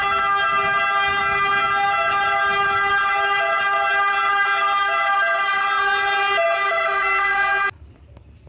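A small toy ambulance sounds its electronic siren, a steady, loud, tonal wail that holds for about eight seconds and then cuts off abruptly, leaving near silence.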